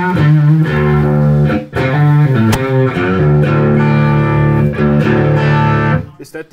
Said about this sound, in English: And if you want some good distortion, some good clean.